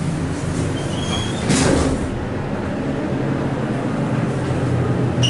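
A Montgomery elevator door in a Dillard's store slides slowly with a steady low rumble, a brief swelling rush of mechanical noise near the middle, set against constant cab and machine hum.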